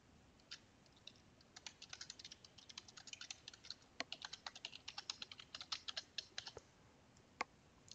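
Keys clatter on a computer keyboard as an account name and password are typed in, with quick irregular bursts of close, faint clicks and short pauses between them, and no one speaking.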